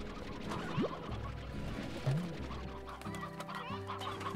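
Chickens in the video game Slime Rancher cluck in scattered bursts over steady background music, with one or two louder squawks standing out.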